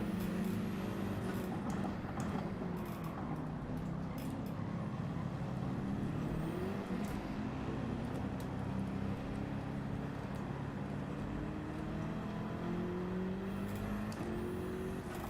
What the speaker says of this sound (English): Oh, big backlog of traffic here.